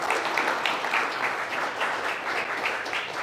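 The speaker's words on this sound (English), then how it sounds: "So let's give her a round of applause for that." Applause from a seminar audience, a steady, fairly distant wash of many clapping hands lasting the full few seconds with no talk over it.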